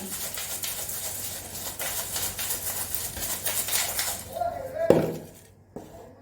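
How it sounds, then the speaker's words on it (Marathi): Tempering is spooned into a pan of poha, giving a steady sizzling hiss followed by a few sharp metallic utensil clinks near the end, heard up close in a home kitchen. "तर आता फोडणी जराशी घालत आहे"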